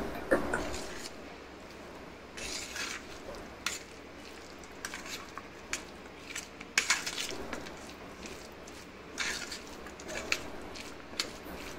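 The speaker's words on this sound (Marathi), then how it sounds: "स्पूनच्या साहाय्याने हे सर्व मिश्रण आपण एकजीव करून घेऊ." A spoon stirs pumpkin bharit mixture in a bowl, giving soft scraping and intermittent light clinks against the bowl, close and quiet, with a brief sizzle-like wash at the start.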